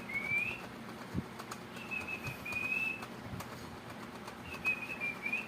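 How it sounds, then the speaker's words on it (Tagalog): Soft, thin whistled bird calls repeat a few times against a quiet background, with faint knocks and rustling nearby. "Wow, may bisita ng ibon."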